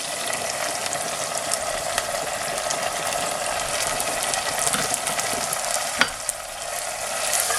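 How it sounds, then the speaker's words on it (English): Onions frying in a pan for lamb keema curry give a loud, steady sizzle and crackle with occasional clicks from stirring, and no one talks. "I'm just going to add the onions now"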